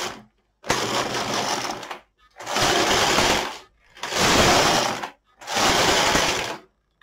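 A Silver Reed LK 150 knitting machine runs four rows, its carriage making a loud, broadband whirring rasp on each pass, with short silent pauses between the rows.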